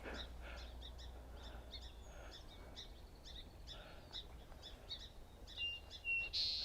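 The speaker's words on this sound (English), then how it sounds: "a lot of song sparrows calling." Song sparrows call repeatedly in a marsh at Birch Bay State Park, short high chirps and trills scattered through the clip at a moderate distance over a quiet outdoor background.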